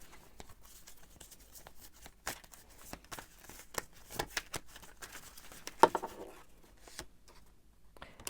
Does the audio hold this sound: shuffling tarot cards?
yes